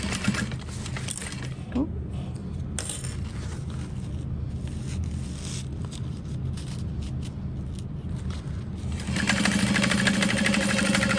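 A sewing machine stitches a zipper pocket shut on a crossbody bag, its motor whirring steadily in bursts, louder toward the end, with a voice talking over it.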